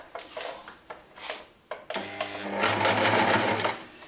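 A sewing machine stitches in a zipper, heard as a few soft handling knocks followed by close, loud, rapid stitching that hums steadily for about two seconds.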